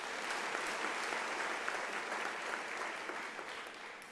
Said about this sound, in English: Can I request a round of applause?